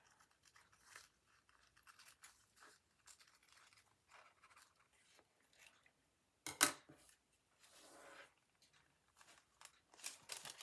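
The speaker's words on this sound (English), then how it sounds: "Now, to get this off, I'm just going to cut with my scissors." Scissors cutting through a paper envelope, a faint, close run of short snips and crisp rustles in an otherwise quiet room, with a louder crackle partway through.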